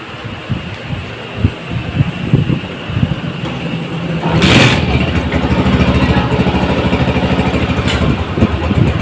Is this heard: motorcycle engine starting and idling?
yes